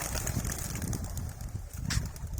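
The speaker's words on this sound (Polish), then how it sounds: "i tu są gołębie" Soft cooing of racing pigeons released for a training flight, mixed into a busy outdoor background, with low murmuring calls repeating irregularly and a brief flutter-like burst near the end.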